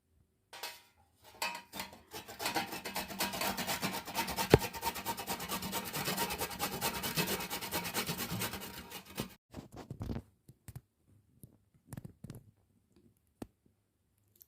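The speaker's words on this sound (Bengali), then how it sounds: "এবার গাজরগুলোকে আমি এরকম একটা গ্রেটারের সাহায্যে গ্রেট করে নেব।" Peeled carrots are rubbed hard against a hand grater in a fast, steady rasping rhythm for several seconds, then a few scattered scrapes and taps before quiet.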